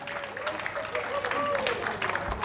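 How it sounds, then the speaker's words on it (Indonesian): Classroom applause for a student group, a short burst of clapping mixed with voices and chatter from the crowd. "Tepuk tangan buat kelompok tanah."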